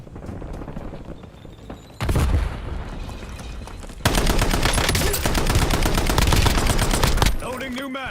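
Video game gunfire in a combat match rings out as loud sustained automatic bursts, with a sharp boom near two seconds and a long continuous stretch of firing afterward.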